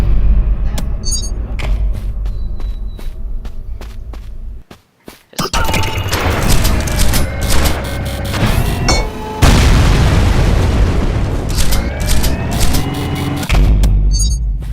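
The jackhammer weapon in the fast shooter Ultrakill fires heavy, booming blasts in repeated bursts amid chaotic combat noise and rumbling impacts, with one brief near-silent gap before the loud barrage resumes.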